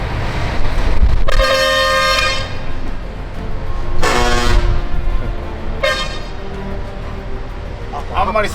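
Decorated trucks sound their air horns in three loud, sustained blasts at close range over a rumbling engine background, with people talking throughout.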